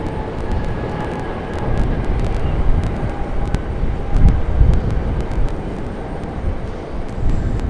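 JetBlue Airbus A220 jet airliner at Raleigh-Durham International Airport, a loud, steady jet engine roar holding throughout with faint ticking clicks over it.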